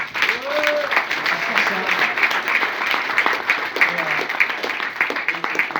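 Audience applause fills a hall, steady and dense throughout, with a few voices calling out or cheering over the clapping.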